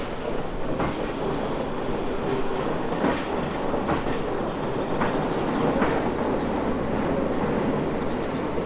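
A rack railway train on the steep Villars-sur-Ollon to Bretaye mountain line runs steadily, a continuous close rumble with faint rhythmic clacks throughout and no talking.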